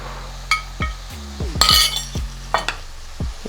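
A spoon clinks and scrapes against a bowl or pot while seafood boil seasoning is stirred together, producing a handful of sharp, close metallic taps spread unevenly over a few seconds.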